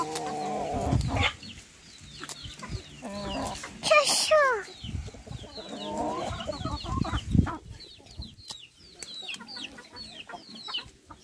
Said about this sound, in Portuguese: Pegando milho para dar a galinha.